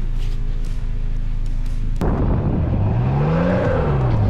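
Toyota Tacoma stuck in deep snow, its engine idling with a low steady hum before a sudden loud rev that climbs and falls in pitch as the wheels spin, close and continuous.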